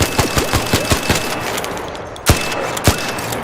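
The Bettina weapon firing in a video game: a quick string of sharp evenly spaced shots, a short pause, then two louder isolated shots, all close and crisp.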